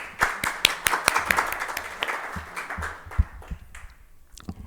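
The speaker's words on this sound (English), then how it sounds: "Please give another warm welcome applause." An audience at a leadership conference claps in scattered, fairly light applause that thins out over a few seconds.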